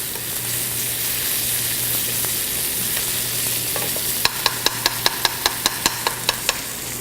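Steak frying in a pan gives a steady broadband sizzle throughout, with a low hum underneath; near the end a quick run of about ten evenly spaced sharp clicks cuts through as the heat is turned off.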